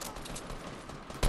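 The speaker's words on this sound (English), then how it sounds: "I'm getting shot at, dude." Fortnite Battle Royale gunfire, a rapid string of distant-sounding shots crackling over a background rumble, ending in a louder close burst.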